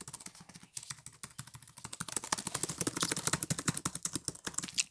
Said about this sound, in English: It's like keys clicking is what the sound is really.